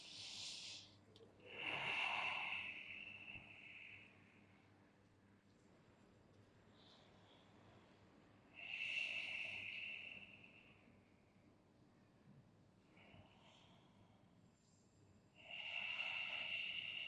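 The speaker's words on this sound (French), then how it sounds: "Plusieurs respirations." Three slow, deep breaths are drawn during a Vinyasa yoga session, each one a soft, hissing rush of air through the nose. Long quiet pauses separate the close breaths.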